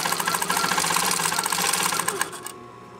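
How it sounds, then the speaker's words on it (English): A sewing machine runs steadily, stitching a sleeve placket close to the fabric edge with a fast, even mechanical rattle, up close and alone, then stops abruptly near the end. "I'm going to stitch very close to the fabric edge"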